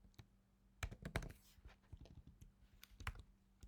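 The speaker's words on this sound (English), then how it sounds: "Typing is not that good today." Typing on a computer keyboard, a run of faint, irregular key clicks with small bursts of quick taps, close but quiet. No one speaks.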